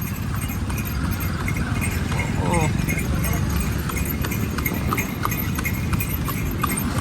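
Hooves clip-clop steadily from a horse-drawn cart carrying a full load of passengers in the Blue City, Jodhpur, Rajasthan, under constant street noise while people talk nearby.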